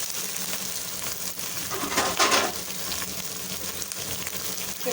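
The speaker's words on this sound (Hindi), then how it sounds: "मैं टमाटर डाल रही हूँ।" Tomatoes frying in a pan for aloo paratha, a steady close sizzle throughout with a brief louder hiss and stirring in the middle.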